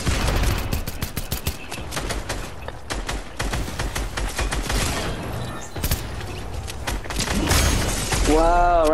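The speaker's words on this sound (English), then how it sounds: "Keep shooting, keep shooting" Gunfire in Fortnite, a rapid string of sharp shots in close succession, loud and near, with clattering breaking sounds and game effects between the bursts.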